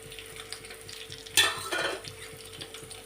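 Chopped onions and green chillies hit hot oil with tempering seeds, giving a sudden close sizzle burst that settles into steady frying with light stirring, no voices.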